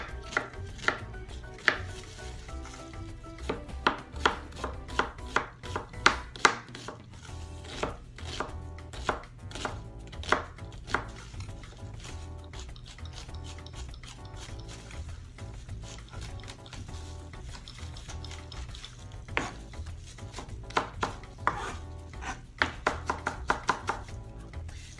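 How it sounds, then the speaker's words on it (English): A knife chops onion on a board in a home kitchen, giving rapid, sharp, close taps in uneven bursts that run throughout, with a low background hum. "So I'm just going to cut a little bit of onion."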